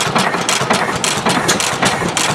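A restored antique International Harvester hit-and-miss gas engine running at a show, loud and close, with a steady rhythmic chuff of regular firing pulses about every quarter second.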